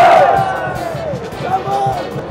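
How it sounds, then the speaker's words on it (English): Stadium crowd at a USA vs Iran World Cup match in Qatar, a dense roar of many voices rising and falling as fans attempt the wave, with loud shouted cheers rising from the near section. "We even tried getting the wave going."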